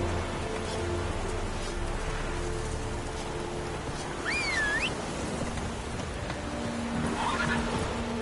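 Roach the horse from The Witcher 3 gives a clear mid-clip whinny, a rising-falling neigh lasting under a second, over steady rain and low ambient rumble, with no talking.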